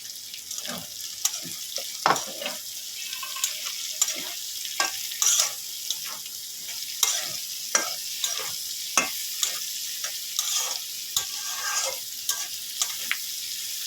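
Green chillies, carrot and capsicum stir-fried for street-style chicken chow mein, a steady broadband sizzle with frequent sharp clicks and scrapes of a spatula tossing the vegetables, close and continuous without talk.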